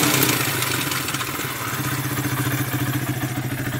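A Triton Baja 400R quad engine revs up loud and close, its rough, clattering drone rising and pulsing steadily with a worn-sounding rattle and no voices.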